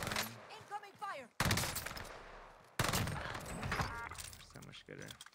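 Bursts of automatic gunfire in an online shooter video game, loud dense volleys cutting in twice, with a player talking excitedly in between and over the shots.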